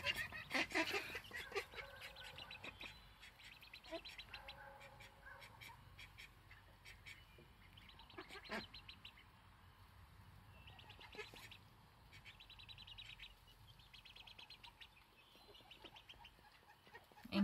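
Domestic ducks in a nesting pen give repeated loud honking quacks and squawks, dense in the first seconds and returning in bursts later, with rustling and background chatter between calls.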